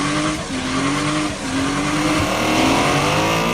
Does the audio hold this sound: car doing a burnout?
yes